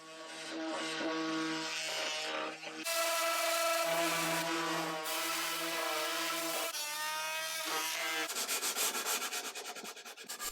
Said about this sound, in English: When I was finally done sanding the back, I did some more sanding.